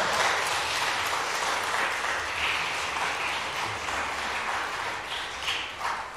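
A law school audience applauds during the dean's remarks at a trial advocacy competition final, with steady, dense clapping holding at an even level throughout.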